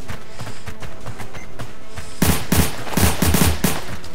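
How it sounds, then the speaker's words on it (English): Rapid bursts of gunfire from the video game Orion: Dino Horde, starting faint and scattered, then loud, close, repeated volleys in quick rhythm during the second half, with no talking. "I like the guns. They sound cool."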